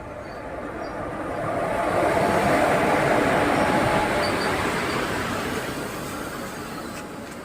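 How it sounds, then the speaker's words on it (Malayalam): Intercity express trains pull out of Payyanur railway station, a steady broad rumble of wheels and carriages that swells over the first couple of seconds, holds, then eases slightly as the train rolls past. "ഈ രണ്ട് ട്രെയിനുകളും വീണ്ടും പയ്യന്നൂർ റെയിൽവേ സ്റ്റേഷനിൽ നിന്ന് പുറപ്പെട്ടിരിക്കുകയാണ്"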